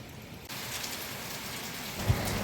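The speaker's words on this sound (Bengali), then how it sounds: "এখন একটু হাওয়াটা কমেছে আর বৃষ্টি হচ্ছে, প্রচণ্ড বৃষ্টি হচ্ছে" Steady, dense downpour of heavy rain from Cyclone Remal drumming on surfaces, a continuous loud hiss with a brief thump near the end.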